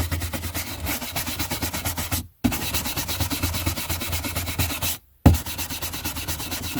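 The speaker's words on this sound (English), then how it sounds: "That rub actually does get it off." Close, steady rubbing on a first edition hardback book cover to remove spotting, a rhythmic scratchy back-and-forth stroking in quick repeated passes, broken by two brief pauses.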